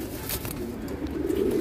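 Tournament-grade racing pigeon cooing close by, a low steady murmuring coo that carries through the whole short stretch without any voices.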